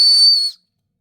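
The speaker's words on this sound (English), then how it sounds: "Let's try the whistle out." A whistle built into a camping multitool knife gives one loud, piercing, steady shrill blast about half a second long, then cuts off into silence.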